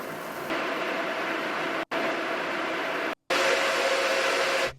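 An ASRock Radeon RX 9070 Steel Legend graphics card's cooling fans give off a steady, loud broadband whoosh that runs almost unbroken, cut by two brief dropouts before a slightly stronger final stretch.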